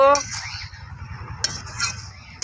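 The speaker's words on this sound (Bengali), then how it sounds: "এবারে দেবো খানিকটা ধনিয়া গুঁড়ো একটু নেড়ে দেব" Shrimp and chili with coriander powder being stirred in a pan, with clinking, scraping strokes of a utensil against metal over a low, steady background, plus a couple of sharper knocks near the end.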